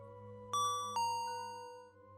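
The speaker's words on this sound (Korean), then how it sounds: "그때 마침 또 종소리가 울리는 겁니다" A bell-like ding-dong chime sounds twice in quick succession, clear and ringing, over a faint low hum, then fades away slowly with no voices.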